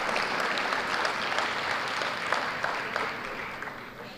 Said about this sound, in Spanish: Fuerte los aplausos para la señora María Beatriz.